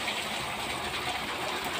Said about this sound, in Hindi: बारिश की वजह से देखेंगे सारा पानी जो है ना वो मेरे कमरे के अंदर आ रहा है